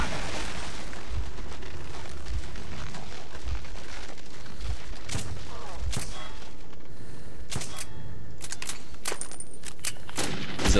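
Gunfire from a weapon in the video game Metro 2033: loud, sharp shots and bursts with booming impacts, spaced irregularly over a busy, rumbling game soundscape.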